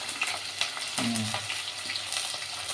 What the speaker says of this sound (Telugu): ఉల్లిగడ్డ అయితే బాగా కలర్ బిర్యానీకి మనం ఫ్రై చేసుకుంటాం కదా